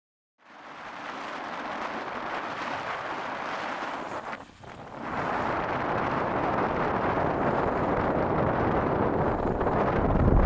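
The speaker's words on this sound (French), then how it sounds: "Le vent s'est toujours pas calmé" Strong wind buffets the microphone in a northern Quebec forest, a loud, steady roaring rush that dips briefly partway through, then builds again and keeps going.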